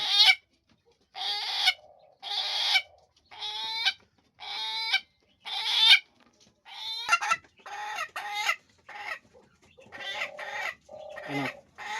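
Farm breeder hens and a rooster clucking in a rhythmic series of loud, close calls with short pauses between them, no talk.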